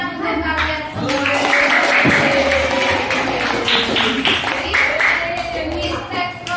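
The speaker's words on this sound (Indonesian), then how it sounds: "Maka tepuk tangan untuk kalian semua." A school class claps together for classmates' group presentations, a loud, close, rhythmic patter with some taps and voices mixed in throughout.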